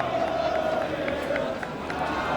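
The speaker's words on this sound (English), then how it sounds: "Crowd boisterous, especially over to our left-hand side" Crowd noise from spectators at an England v Pakistan cricket Test match: a steady, busy murmur of many voices in the stands, heard under a commentator talking.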